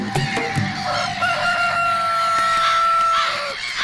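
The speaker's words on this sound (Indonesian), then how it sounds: "Dan sang ayam, ya, dia hanya menjaga taman." A cartoon rooster crows in a children's fairy-tale animation, one long loud drawn-out cock-a-doodle-doo with a steady held tone, set against busy background music and effects.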